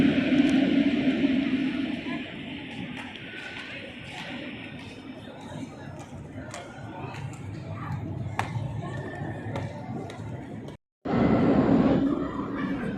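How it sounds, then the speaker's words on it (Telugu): A metro train rumbles and rolls into a Lisbon station, rising in steady mechanical noise with faint squeals, while a person talks over it. "ఇలా ఇప్పుడు ట్రైన్ వస్తుంది అన్నట్టు"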